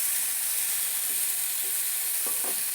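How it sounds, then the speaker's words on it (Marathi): Onion and tomato frying in oil in a pan for a Hyderabadi chicken dum biryani, a constant close hiss of sizzling with a few light scrapes from stirring near the end and no talking. "कांदा आणि टोमॅटो दोन्ही पॅनमध्ये छान भाजून घ्यायचे"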